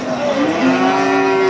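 A Sahiwal bull calf at the Satmile cattle market gives one loud, close, drawn-out moo that slides in pitch and then holds. No talk accompanies it.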